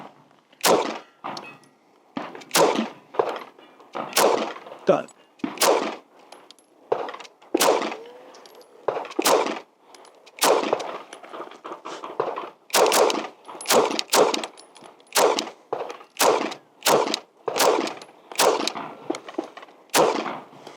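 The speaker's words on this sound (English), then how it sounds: "Shoot that full mag in that head box." Sig Sauer P226 MK25 pistol emptying a full magazine at a range target, roughly twenty sharp, loud shots fired at a steady, slightly uneven pace, with no talking.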